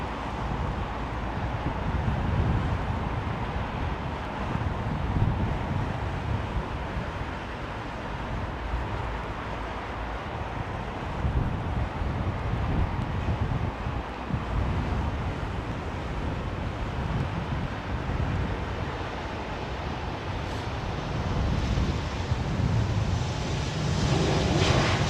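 A fixed-wing airliner arrives on runway 27R, its engines a steady, fairly quiet broadband roar mixed with wind noise across the whole stretch, with no talking.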